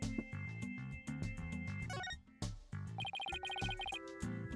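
A telephone ring chimes in the video game Ace Attorney Dual Destinies, a melodic electronic ringtone of repeated tonal bursts over game music, moderately faint, without talk.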